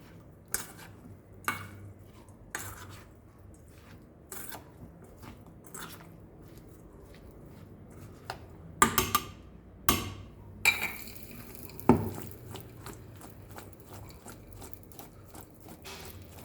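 Raw mango pickle, Goan miskut, being mixed in a bowl, giving a series of short, sharp crunchy clicks and scrapes spaced irregularly, with a few louder knocks near the end, close and with no talking.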